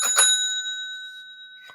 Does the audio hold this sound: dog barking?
no